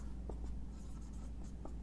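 Chalk or marker scratching on a board during a maths class, a few soft, short strokes over steady low room hum, with no talking.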